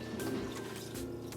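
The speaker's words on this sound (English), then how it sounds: "Now I'm just going to flush the toilet." A camper toilet flushes during de-winterizing, a steady close rush of water pouring and filling the bowl with faint sloshing, heard without talk.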